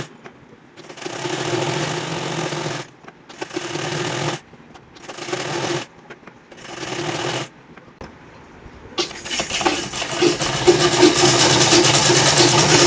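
A sewing machine stitches a bias strip onto a plain kameez in four close bursts of rapid motor chatter separated by short pauses, then a louder, longer stretch of continuous whirring runs to the end.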